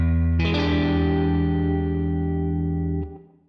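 An electric guitar strikes a single dominant 7 sharp 9 chord, which rings out with sustained, slightly distorted tone for about three seconds before being cut off.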